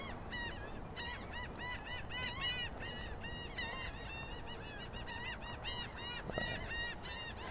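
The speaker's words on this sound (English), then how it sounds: "seagulls going crazy over there." Seagulls calling near an outdoor mural spot at Coney Island in Brooklyn, New York, with repeated harsh, honking cries from several birds over a steady background of ambient city noise.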